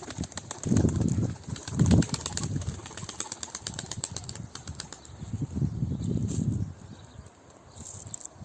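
A young grey female Ankara tumbler pigeon's wings flap in several soft bursts, close by, with rustling and light clicking between them and no talking.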